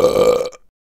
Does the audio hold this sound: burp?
yes